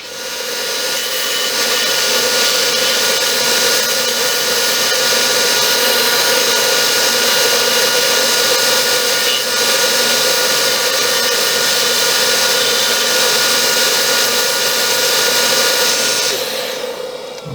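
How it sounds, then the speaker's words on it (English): A belt sander and spindle sander working knife scales: a steady, loud whirring drone with sanding friction that runs nearly unbroken, then stops at the very end. "I'm going to use a combination of the belt sander and the spindle sander"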